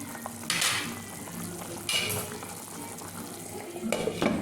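A utensil stirs roasted Bambino vermicelli in a pan, making scraping and clinking sounds in a few distinct bursts over a low, steady background hiss.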